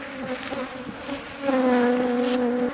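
Honeybees buzz steadily at a hive with its entrances being changed, a close, continuous drone that swells louder and fuller halfway through and holds to the end.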